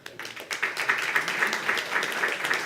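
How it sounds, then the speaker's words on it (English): An audience claps together in a brief round of applause, the patter of many hands swelling quickly and staying steady. "a round of applause to Luis."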